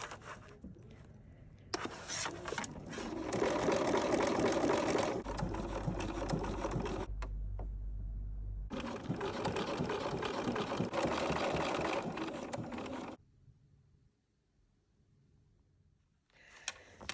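A sewing machine stitching leather onto felt for a zipper purse hums continuously up close for several seconds with brief pauses, then stops, leaving quiet handling sounds.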